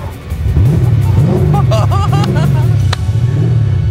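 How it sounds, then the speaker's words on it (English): A V8 car engine starts and rumbles steadily at close range, revving up with rising and falling roars, while voices chatter faintly underneath, at a sprint racing event. "The guttural roar of a V8 engine, music to the male ear."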